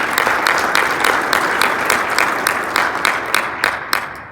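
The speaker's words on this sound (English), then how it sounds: "So a round of applause for them as well." Audience at a mayor's annual state of the city address gives a loud round of applause, close, dense clapping with individual sharp claps standing out, tapering off near the end.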